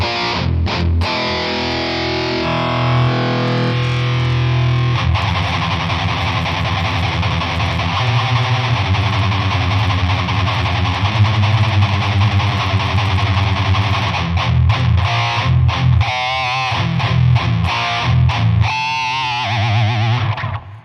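Heavy distorted metal electric guitar played through a pedal and an impulse-response loader app on iOS, a dense, loud continuous stretch of chugging riffs and sustained chords with brief stops near the end.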